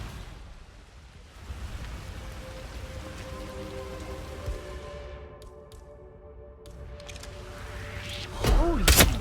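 Steady rain in the video game Hitman 3 patters and hisses in a continuous wash, with a mechanical sliding, door-like sound rising near the end.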